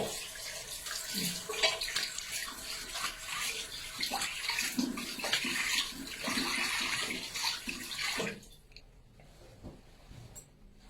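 Running water and splashing hands rinse egg white whip facial foam off a face in a steady wash that stops abruptly near the end, leaving a few faint drips.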